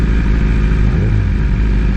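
A BMW S1000RR motorcycle engine runs steadily, a loud, continuous low rumble with a brief rise in pitch midway, like a light blip of the throttle, and no talking over it.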